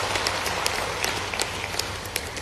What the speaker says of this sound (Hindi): इसको तो जोर से ताली बजावा